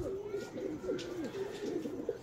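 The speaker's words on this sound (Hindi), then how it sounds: "तो ये कबूतर है जी" A pigeon with slightly damaged eyes, freshly caught, gives repeated low throaty coos close by, a soft rolling rhythm over a noisy outdoor background.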